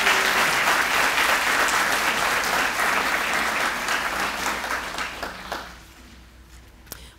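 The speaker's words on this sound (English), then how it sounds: "let's give them a round of applause." Audience applause at a Hall of Fame ceremony, a crowd standing and clapping steadily and loudly for several seconds before it thins out and fades near the end.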